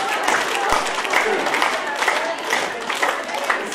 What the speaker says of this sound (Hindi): पूरा हाथ खोल करके ताली बजाते हैं